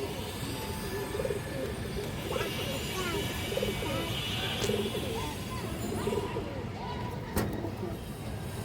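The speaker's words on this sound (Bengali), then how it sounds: "বুট ঠোঁটের মুসলদম নর কবুতর এই দেখেন" Several pigeons, including a Musaldam male with a boot-shaped beak, coo in repeated low rolling calls close by, under someone talking steadily.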